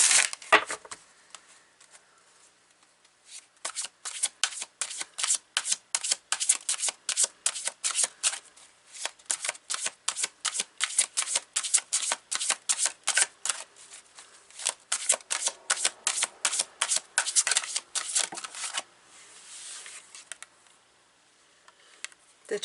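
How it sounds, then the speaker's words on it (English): Tarot cards are shuffled by hand at close range in repeated quick riffling bursts, rhythmic flurries of crisp papery snaps separated by brief pauses, with no talking. "I'm going to pull some cards here."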